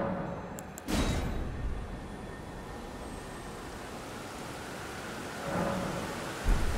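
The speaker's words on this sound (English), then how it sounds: "Oh, it's all rainy." Rain falls steadily in the video game Elden Ring, with a rumble of thunder near the start and another swelling toward the end over the constant downpour.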